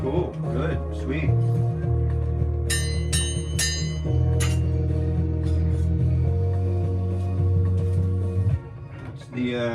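A bell rings out several clear, bright metallic strikes in a kitchen while cooking ramen with a soft-boiled egg, its tones standing loud and near over a sustained low hum, with no talking.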